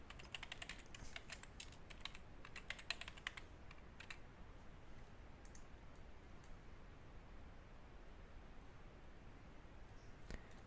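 Quiet keystrokes on a computer keyboard as a password is entered, a flurry of clicks in the first four seconds followed by a few isolated taps over a faint steady hiss.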